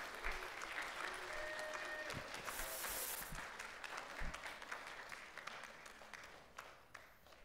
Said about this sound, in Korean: 우리 박수로 환영.